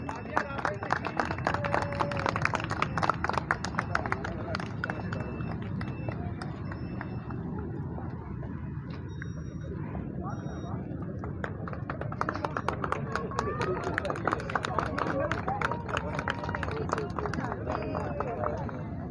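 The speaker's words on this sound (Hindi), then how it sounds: "बहुत जोरदार तालियां" Loud, sustained applause from an audience at a Mother's Day stage event, dense clapping running steadily throughout with a brief slight dip in the middle, with voices mixed in.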